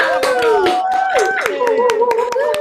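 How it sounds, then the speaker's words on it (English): Clapping at a launch party for an LGBTQ+ musicians poster: sharp, close hand claps at an uneven pace, with voices cheering and talking loudly over them throughout. "Hop off and give those applause."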